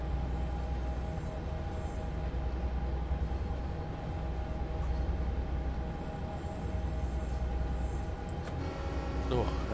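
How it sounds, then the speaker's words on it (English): A diesel locomotive hauling coal in Train Sim World 2 idles with a deep, steady bass throb and a constant drone, while someone talks over it throughout. "There's a lot of bass in this engine. It's got that low throb that you hear."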